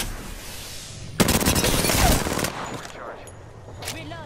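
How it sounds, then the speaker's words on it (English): Bursts of automatic gunfire in a shooter game, a dense loud volley of rapid shots lasting over a second after a quieter opening, then fading to scattered sporadic shots. "Are you getting shot from behind?"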